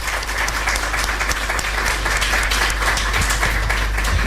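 A crowd at a foreign trade strategy conference applauds a guest named Roberto, a dense, loud, continuous wash of clapping with a low hum underneath.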